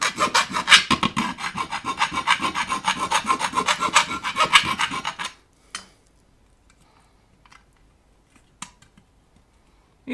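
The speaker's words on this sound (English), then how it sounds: "So I need to enlarge the tube socket holes." Metal amplifier chassis having its tube socket holes enlarged by hand, giving a close, loud, steady rhythmic rasping and filing for about five seconds, then stopping, with only a few faint clicks and taps afterward.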